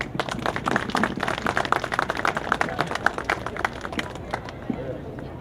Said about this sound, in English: Give a big round of applause for Orlando Williams.